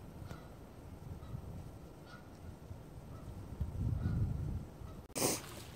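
Geese honk from a distance in open country, a few scattered calls, with a louder honking burst near the end over low wind and rustling.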